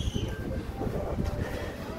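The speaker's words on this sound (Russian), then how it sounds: "А вот это у нас читинские, по-моему, вагоны." Railway cars of the Chita–Moscow passenger train rumble past at a station, a low rolling clatter with faint wheel squeal, close and continuous for a couple of seconds.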